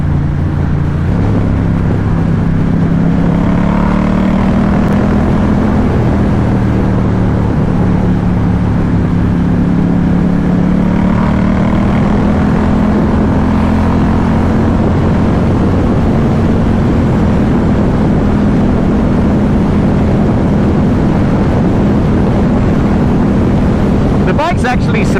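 A Ducati Diavel 1260 muscle bike on the move, its engine a steady low drone with shifting pitch, heavily buffeted by loud wind noise on the microphone, while the rider talks over it.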